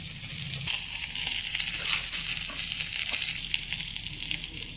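Hot mustard-seed tempering poured into a yogurt pachadi with roasted brinjal, a steady bright sizzle and crackle rising as the oil hits, continuing evenly without talk.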